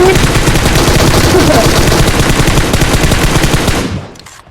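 Rapid automatic gunfire from the mobile battle-royale game PUBG Mobile, loud and continuous bursts filling the scene for about four seconds before cutting off abruptly.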